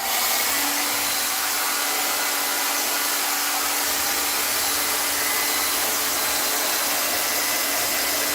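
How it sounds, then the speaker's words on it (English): A hair dryer blows steadily on a Moluccan cockatoo indoors, a loud continuous whooshing hum that runs unbroken from start to finish with no talking over it. "How about we blow dry you on my arm?"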